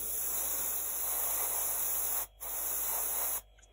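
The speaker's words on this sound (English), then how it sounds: "We have two layers of air spray on the plate." An aerosol spray can hisses steadily as it lays a second coat onto a plate for a rust effect, with a brief pause midway before the spray cuts off near the end.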